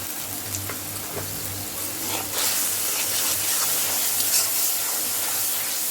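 Turmeric and chili powder frying in a home pan for a tilapia curry with beans, radish, potato and tomato, a steady close sizzle with a few brief scrapes, no voices.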